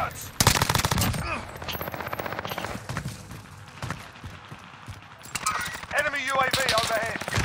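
Call of Duty Warzone gunfire: rapid automatic bursts and sharp shots crackle close by in quick succession, with radio-style voice callouts talking over the shooting.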